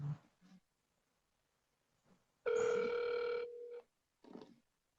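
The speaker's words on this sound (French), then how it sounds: "Donc là, ça sonne. Ça sonne, ça sonne." A telephone ringback tone plays over a speakerphone: one sustained electronic tone of about a second and a half, framed by faint muffled bursts of sound before and after.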